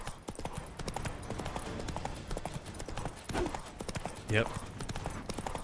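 Hooves of Roach, Geralt's horse in The Witcher 3, clip-clop at a steady riding pace throughout, with a brief whinny-like burst near the end and a player speaking over the gait.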